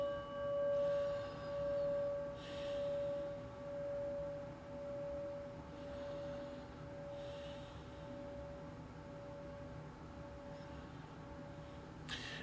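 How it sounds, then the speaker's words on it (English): A sustained bell tone rings out and slowly fades in repeated pulsing swells, quiet and calm, with soft breathing-like noise underneath. "And listen to the prayer bell."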